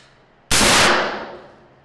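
A single loud suppressed gunshot from a 10.3-inch AR rifle fitted with a Thunder Beast Magnus suppressor, a sharp close report that trails off over about a second, heard alone.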